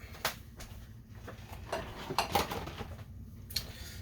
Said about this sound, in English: let's transfer this to a bigger bowl